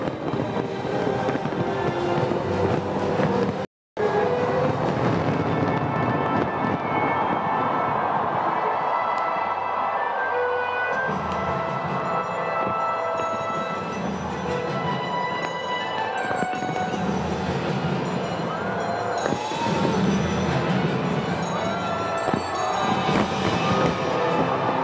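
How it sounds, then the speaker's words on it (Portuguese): A New Year's fireworks display over Copacabana beach booms and crackles continuously, dense overlapping bursts mixed with a roaring crowd, loud and sustained with a brief dropout early on. "maior queima de fogos"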